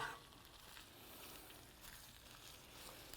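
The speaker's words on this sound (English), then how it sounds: "we're just going to saute this until it's wilted" Spinach sautéing in olive oil in a pan, giving a faint, steady sizzle and crackle throughout, close but quiet, with no voices.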